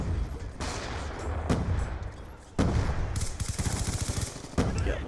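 Gunfire rips through a video game firefight in dense automatic bursts, loud and near, with a brief lull before the shooting resumes heavier.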